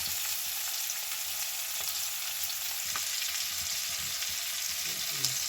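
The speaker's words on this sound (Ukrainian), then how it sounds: "вже коли вони посмажилися, з другої сторони я викладаю також цибульку до них" Chicken thighs and onion sizzling in a frying pan, a steady broadband hiss of hot fat with occasional small pops and a stir, close and continuous throughout without talk.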